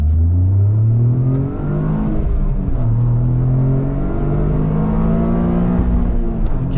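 A 2023 Toyota GR Corolla Morizo accelerates hard on a race circuit, its engine droning loud and steady with rising pitch sweeps through gear changes, close and continuous with no talk.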